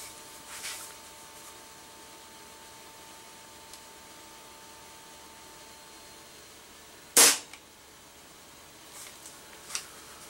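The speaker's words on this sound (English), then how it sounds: "first pellet ever through this air rifle." A Crosman Phantom .22 piston air rifle fires a 13.12-grain wadcutter pellet, a single sharp crack that rings out clearly once against a quiet room hum, with no talk.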